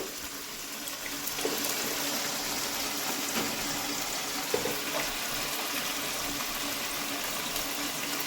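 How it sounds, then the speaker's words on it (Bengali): Water poured from close by onto dry ground spices, cumin, chilli and turmeric, in a pan, making a steady, continuous rushing pour that lasts throughout with faint scattered clinks. "এই শুকনো মশলাগুলো যে দিলাম তার জন্য একটু জল দিয়ে দিলাম"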